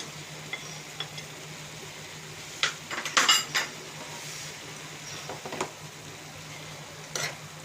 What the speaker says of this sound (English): and give it a nice mix